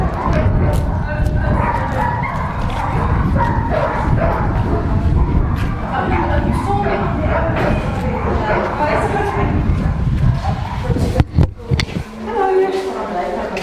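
Dogs bark and yip continuously in the kennels of an SPCA animal shelter, several animals close by with whimpers mixed in, over a constant babble of echoing noise and a few sharp knocks near the end.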